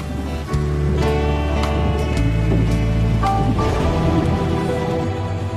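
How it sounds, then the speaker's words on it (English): Heavy rain pours steadily over a storm near an airport, with low rumbling thunder rolling underneath in a continuous, loud wash of noise. "The crew suddenly notices that they'll be flying into more than a bit of rain."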